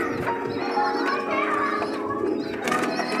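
Fighting pigeons coo in a loft, a low murmuring that carries through the whole stretch, mixed with a busy background and overlapping speech.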